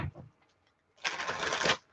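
An oracle card deck being shuffled during a live collective card reading: a faint short knock, a brief pause, then a quick papery riffling burst of under a second, heard close and alone.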